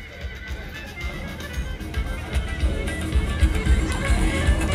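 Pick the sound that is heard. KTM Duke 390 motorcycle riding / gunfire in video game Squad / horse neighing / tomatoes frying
horse neighing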